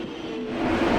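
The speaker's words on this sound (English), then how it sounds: "It's the best train as well." A close, steady diesel train engine hum with a droning tone that swells slightly in pitch and loudness, heard from inside a passenger train on the Hope Valley Line without any talking.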